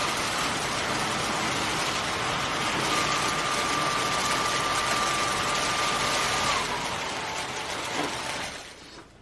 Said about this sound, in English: So if I put this here, then it comes up to full speed.